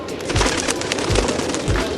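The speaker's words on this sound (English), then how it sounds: "So many birds." Many birds call outdoors at Batu Caves in Malaysia, a dense, continuous chatter of chirps at fairly close range, with low thumping sounds recurring about every second underneath.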